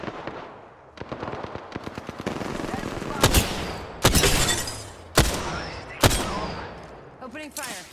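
Apex Legends gunfire: bursts of rapid automatic shots followed by several sharp, loud single cracks and impacts, close and punchy, with voices talking amid the shooting.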